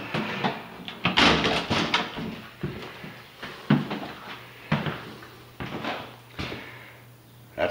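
A hallway door in a second-floor apartment building in Wilkes-Barre opens and closes, giving a series of close, sharp knocks and thuds with faint rattles between them, with no talking.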